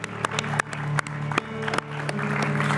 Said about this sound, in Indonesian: Boleh tepuk tangan dulu buat Hipsi Hoir,